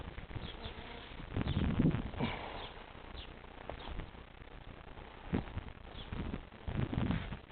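Honey bees buzz faintly around an overwintered hive during an inspection, soft droning swells rising and falling, with occasional light clicks and rustles nearby.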